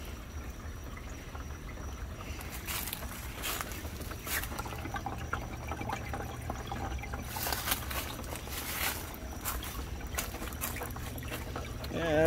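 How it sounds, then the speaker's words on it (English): Water trickles and drips from a tiny leak in a fish house tank system, with a faint, irregular dribble over a steady low pump hum and no voices. "I got a tiny bit of a leak."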